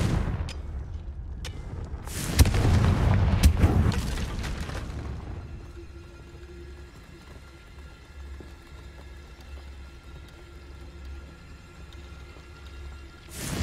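Blasting spell explosions in Hogwarts Legacy on PS5: a cluster of sharp cracks and a loud booming burst, then a fading rumble under a low game music drone.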